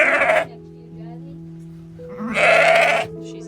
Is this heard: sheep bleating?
yes